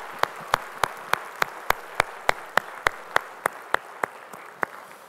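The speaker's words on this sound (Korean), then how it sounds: "우리 찬양하신 주님께 영광의 박수 올리겠습니다" A church congregation claps in unison during a Sunday service, about sixteen sharp, evenly spaced claps in a steady rhythm that slowly soften toward the end.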